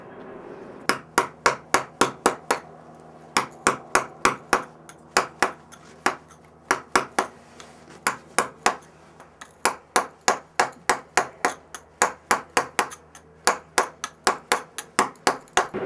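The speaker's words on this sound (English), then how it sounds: "I come back in with a tooth chisel." A hammer taps a tooth chisel into stone in quick, sharp, ringing strikes, close and evenly paced in bursts of several blows separated by short pauses, with no talking.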